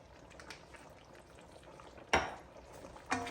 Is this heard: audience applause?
no